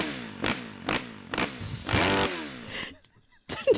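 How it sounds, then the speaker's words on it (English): A buzzy, revving small engine putters in short bursts, then whines higher as if accelerating, before cutting off abruptly; sounds like a cheap effect. "It's not a motorcycle. It's like a moped."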